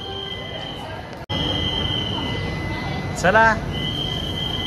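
A passenger express train pulling slowly out of Tirupati railway station, with a steady rolling rumble, a brief squeal of wheels partway through, and a person speaking briefly over it.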